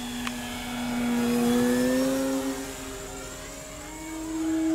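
An E-flite Extra 330 SC 1.3m electric RC aerobatic plane flies overhead, its motor whining steadily with pitch rising and falling as it tumbles, moderately loud and continuous.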